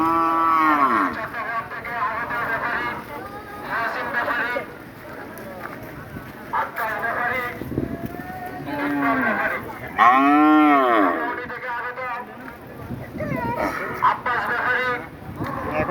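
Several cattle moo loudly and repeatedly at a cattle and goat market, long low calls rising and falling over a busy crowd murmur, with people talking throughout.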